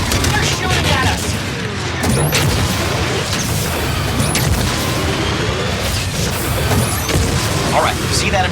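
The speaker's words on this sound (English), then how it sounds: "They're shooting at us!" TIE fighters shooting at the ship in Star Wars Outlaws, rapid blaster bursts and booming impacts repeating over a loud roaring engine, with people talking over the noise.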